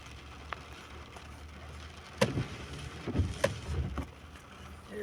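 Heavy evening rain pours down in Kuwait as a thunderstorm builds, a steady, even hiss with a few louder bursts and splashes breaking through.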